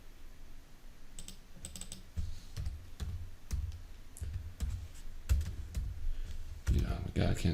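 Someone types on a computer keyboard in scattered bursts of close, crisp key clicks and thumps, with quieter stretches between them and a voice talking alongside.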